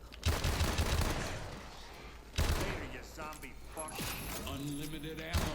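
Rapid gunfire from an unlimited-ammo weapon in a zombie video game, dense sustained bursts with sharp attacks across the clip, mixed with game effects and a voice talking over it.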